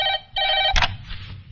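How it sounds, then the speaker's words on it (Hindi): Two electronic telephone ring bursts sound while a call is placed, followed by a click as the line is picked up and a brief clatter. "एसपी साहब को फोन लगाइए।"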